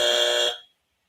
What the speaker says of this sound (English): Pushing that buzzer for that word.